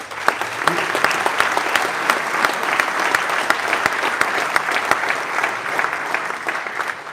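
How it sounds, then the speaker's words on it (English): A crowd at a KTM MotoGP team presentation gives loud, sustained applause, with a few sharper claps and faint cheers within the steady roar of clapping. "Big applause for everybody."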